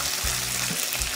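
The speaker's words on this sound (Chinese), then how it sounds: "先把这边煎起腐皮先" Tofu skin fries in hot oil in a pan, giving a steady, close crackling sizzle that runs without pause and with no voices.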